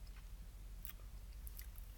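Close, faint chewing of a crunchy breaded spicy chicken sandwich from Popeyes, with soft crackling bites and a few sharper crunches over a low steady hum, no talking.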